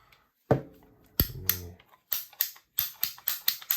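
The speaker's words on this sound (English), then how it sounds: "That's the Ratchet technology, see? And then it just cut that pipe right in half for you." A Libraton ratchet PVC pipe cutter snaps through a pipe: a sharp crack, then a louder crunching cut with a short rattling tail, followed by a run of quick, even ratchet clicks close to the mic.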